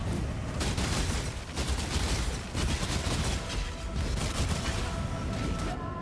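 Dense, continuous video game gunfire crackles throughout at a moderate, fairly distant level, with occasional heavier thuds mixed into the steady rattle.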